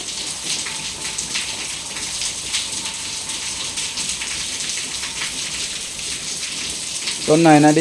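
Steady, dense rain hisses throughout, with faint voices underneath and a brief louder burst of sound near the end.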